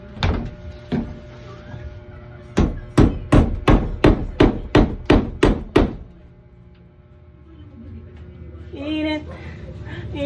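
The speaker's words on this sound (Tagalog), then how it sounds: "Pako na natin." Hammer strikes driving nails into plywood during a home room build, a rapid series of about nine loud, evenly spaced blows close by, with a couple of separate knocks before and a brief voice afterward.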